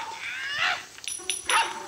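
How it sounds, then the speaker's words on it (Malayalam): A dog barks and yips in the Robbery Bob video game, a few short, bright synthetic barks in quick succession at moderate loudness, with no talk over them. "പട്ടി പട്ടിക്കുട്ടി"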